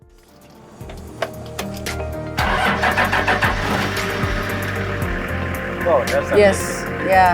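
A car engine turns over and starts up, then idles steadily at close range while a driver and passenger in South Sudan exchange brief words over the running motor.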